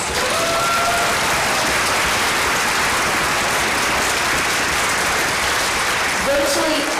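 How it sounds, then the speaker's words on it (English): Loud, dense audience applause fills a hall after an honor orchestra performance, sustained and even throughout, with a few cheers and whistles rising near the end. "Can we give him a big round of applause?"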